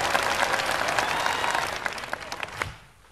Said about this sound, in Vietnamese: Vỗ tay mạnh lên thưa quý vị.